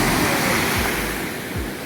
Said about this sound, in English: pretty good waves